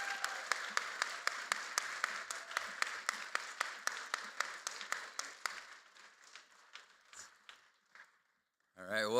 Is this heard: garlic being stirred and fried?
no